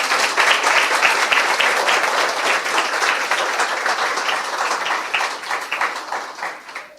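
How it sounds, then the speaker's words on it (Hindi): A congregation at a Christian worship service claps enthusiastically in sustained, dense applause that continues steadily and begins to thin out toward the end. "आइए यीशु के लिए जोरदार ताली बजाएंगे।"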